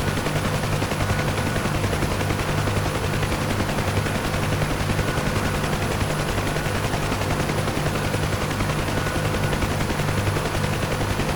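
A helicopter in the DCS combat flight simulator drones loudly and steadily with a pulsing rotor hum while rapid weapon fire rattles continuously over it, with no voices.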